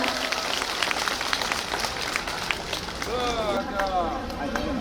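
Audience clapping at a live concert as a singer gets ready to perform a song: dense, steady applause from the crowd, with a voice rising over it toward the end.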